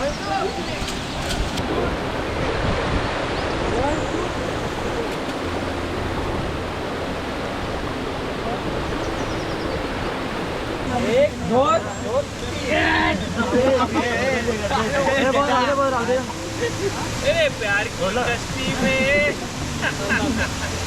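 Rushing water at Dhangar waterfall mixes with rain in a dense, constant roar, with voices talking over it in the second half.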